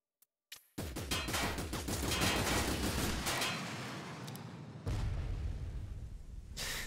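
Heavy gunfire from the tactics game Frozen Synapse breaks out suddenly after a short silence. It is a dense, loud barrage that rolls on for several seconds and swells again near the end.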